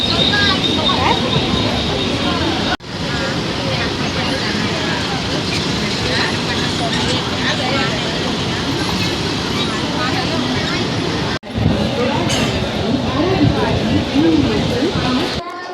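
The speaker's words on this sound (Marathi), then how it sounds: "आता ट्रेन पकडली, आता चढतोय ट्रेनमध्ये." Inside a moderately crowded train while boarding, a loud, steady rumble of the moving carriage and crowd noise fills the whole stretch, with people talking throughout and two brief dropouts in the sound.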